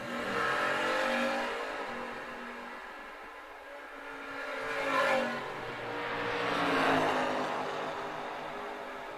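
Drag racing cars, a Nova among them, roar down the track in an outlaw series race, a sustained broadband engine drone that swells and fades as they pull away at a distance.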